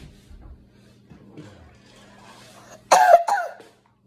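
A child's short, sharp double cough, close by, after a few quiet seconds of faint background noises.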